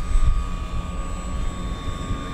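A Dynam Boeing PT-17 RC biplane flies with its electric motor held just below half throttle, giving a steady, even whine with a constant tone. Light wind rumble sits underneath.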